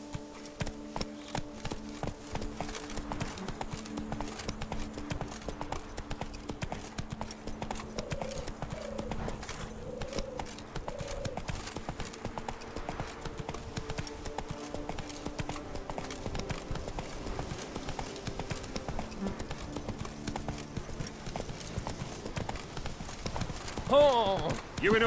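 Hooves of a galloping horse in The Witcher 3 keep up a steady rapid clip-clop under game music, close and continuous, with a short snort or whinny near the end.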